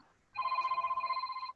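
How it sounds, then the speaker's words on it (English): A mobile phone rings with a steady warbling electronic tone lasting about a second, fairly faint and with no talk over it. "That's my phone."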